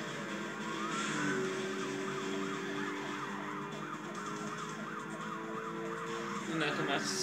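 Several police sirens wail in a car chase in Need for Speed Carbon, with rising and falling tones that overlap for the whole stretch under racing engine noise, and a brief burst of louder sound comes near the end.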